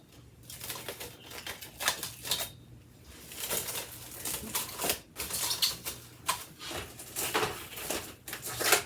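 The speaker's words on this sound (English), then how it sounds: "we're going to get a piece of plastic wrap. We're going to cover the top." Plastic wrap is pulled and pressed over a bowl of honey white sandwich bread dough, giving a run of irregular crinkling and rustling bursts, close and moderately quiet, with no speech.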